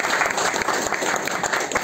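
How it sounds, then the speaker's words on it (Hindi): Audience in an insurance company office meeting applauds warmly, a steady dense burst of clapping heard up close with no speech over it. "तो एक बार फिर से अजय जी के लिए बहुत जोरदार तालियों से।"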